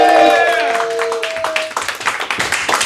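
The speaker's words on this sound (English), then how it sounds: "Let's give them all a huge round of applause" Audience at a London comedy show claps after a call for a round of applause. The clapping builds beneath a fading shout and continues in uneven bursts to the end.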